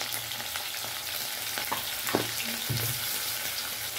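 Green chillies and salt sizzle in hot oil in a pan for a fish curry, a constant close frying crackle with a few spoon scrapes and stirring knocks mixed in, no voices.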